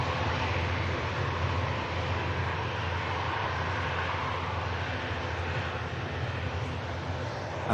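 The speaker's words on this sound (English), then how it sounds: "TAP Air Portugal coming in from Lisbon as well, Airbus A320." A TAP Air Portugal Airbus A320 arriving from Lisbon at Manchester Airport gives a dense, steady engine roar, loud and even throughout, with no talking.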